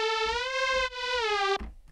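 A dry, buzzy synthesizer lead holds two long notes with dense harmonics, cutting off abruptly into a brief low thump, loud and with no other sounds.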